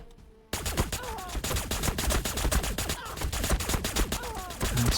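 Dense, continuous gunfire and shooting in the Warhammer 40,000 Battlesector strategy video game, loud overlapping shots crackling without pause after a brief quiet start.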